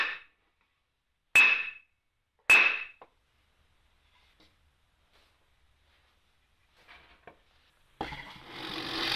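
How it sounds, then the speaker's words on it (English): Two sharp hammer taps on dowel centers in plywood ring out about a second apart in a quiet room, followed by faint handling clicks and a burst of rustling noise. "just tap it with a hammer to make a mark on the adjoining"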